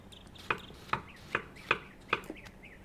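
Five crisp knife chops on a board fall at a steady, even rhythm as tomatoes are sliced in the restaurant game Kebab Chefs, fairly soft and close, with no talking.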